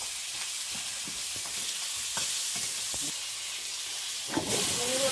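Garlic and onion with five-spice seeds go into hot oil in a pan, setting off a steady, loud sizzle and hiss close by, with a few clinks of stirring and a sharper burst of frying near the end.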